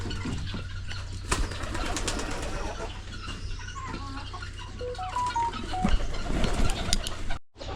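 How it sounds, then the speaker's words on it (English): Pigeons cooing inside a villa garage, soft repeated coos and calls over a steady low hum, with occasional wing flaps and a brief dropout near the end. "as I was checking my pigeons"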